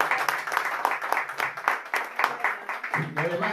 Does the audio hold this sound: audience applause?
yes